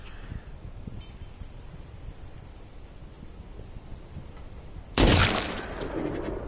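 A single loud, sharp video game rifle gunshot bursts out after several seconds of low background noise, followed by a lingering noisy tail.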